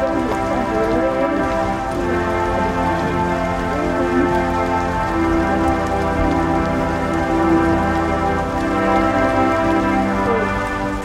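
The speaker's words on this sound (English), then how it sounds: "Oh, rain is falling." Steady rain falls continuously, a dense close patter of drops on surfaces holding an even level throughout, with faint rumbling underneath and no talk.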